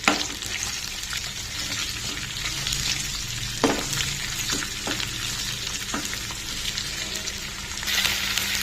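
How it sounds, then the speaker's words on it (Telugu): Ivy gourd slices sizzle steadily in a hot pan, with a few sharp scraping stirs cutting through the continuous frying hiss; close and fairly loud, no voices. "ఇప్పుడు దీనిలో ఆల్రెడీ కట్ చేసి పెట్టుకున్నటువంటి దొండకాయ పీసెస్ వేసుకున్నాం"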